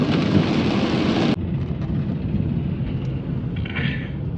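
Steady rain noise during a dark night road journey toward Ooty, a dense, even wash that cuts sharply to a quieter rumble partway through, with no voices.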